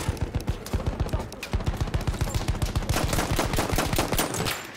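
Rapid automatic gunfire from Battlefield 1, loud and close, with dense bursts of sharp repeated shots overlapping heavier impacts and continuing steadily throughout.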